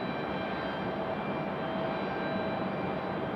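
A Delta A220 jet airliner roars steadily at Raleigh-Durham airport, a broad, continuous engine rush with a faint whine, heard alone without talk.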